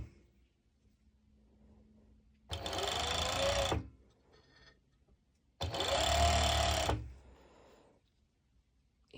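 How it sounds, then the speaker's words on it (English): A sewing machine stitching leggings fabric in two separate bursts of rapid mechanical whirring, each lasting over a second, with quiet pauses between them. "please do this step with your zigzag stitch at your normal sew machine."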